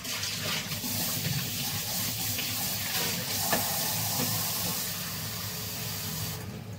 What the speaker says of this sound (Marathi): ते पाणी बदलते मी आणि पुदिना धुवायला घेते पाणी